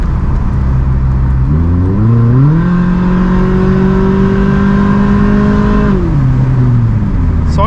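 A Toyota Corolla GLI 1.6 with an aftermarket on/off exhaust valve opened revs up loudly, holds a high, raspy drone for a few seconds, then drops back to idle, with a rough, throaty exhaust note throughout.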